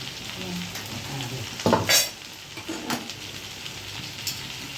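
Spices such as coriander-cumin powder being stirred into hot oil in a pan while tempering an okra dish, a steady crackling sizzle with a few sharp metallic scrapes and clinks of a utensil against the pan, close and alone.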